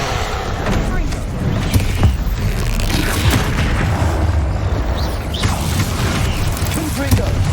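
Fiery spell blasts and booming impacts from Confringo in Hogwarts Legacy, thudding repeatedly through a dense, continuous battle din with bursts and pops throughout.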